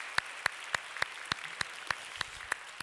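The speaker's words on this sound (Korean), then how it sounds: "축복의 박수합니다." A church congregation gives a blessing applause at a Christmas newcomers' service, heard as about ten crisp, evenly spaced claps struck in unison at a quick, steady beat over a quiet background.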